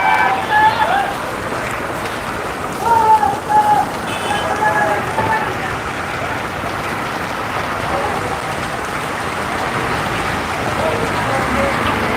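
Heavy rain pours onto a street in Dhaka, a steady, dense hiss of falling water that runs unbroken throughout, with faint voices and street sounds showing through in the first few seconds.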